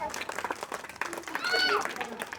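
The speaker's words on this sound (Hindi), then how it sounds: "जोरदार तालियां महजूरी के लिए" Audience applause at a school's annual achievement award ceremony: a brief round of close clapping mixed with voices and a quick whistle-like cheer.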